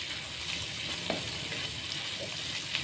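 Food fries together with its seasoning paste in a pan, a steady close hiss and sizzle with faint stirring scrapes and no talking.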